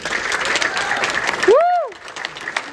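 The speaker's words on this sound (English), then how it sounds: "Let's please give our interns another round of applause." An audience claps and cheers for graduating Project SEARCH interns at their graduation ceremony, a full round of applause with one high, rising-and-falling whoop cutting through near the end.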